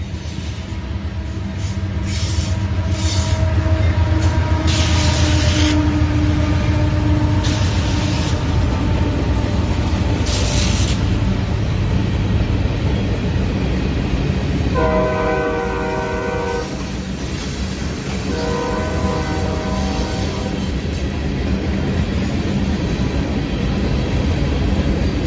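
A CSX freight train rolls past on the old B&O line in the Potomac Valley, a loud close rumble of wheels and cars with repeated horn blasts sounding midway through.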